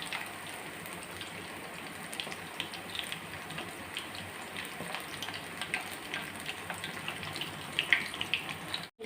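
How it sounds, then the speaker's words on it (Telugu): Chicken curry simmers in a pot with a steady crackling, bubbling sizzle that stays even and close, with a few sharper pops near the end. "ఆల్రెడీ చికెన్ కర్రీ ఇక్కడ ఉడుకుతుంది"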